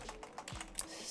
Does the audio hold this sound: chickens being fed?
no